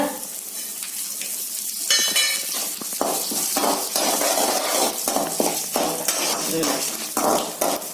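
Curry leaves crackle and sizzle sharply in hot oil, with bursts of popping and a few metallic clinks of a pan, close and fairly loud.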